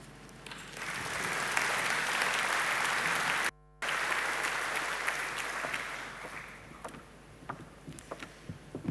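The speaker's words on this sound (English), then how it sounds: "another round of applause" Warm applause rises from a conference audience at an infrastructure leadership event, a sustained crowd of clapping that briefly cuts out, returns, and slowly thins toward the end.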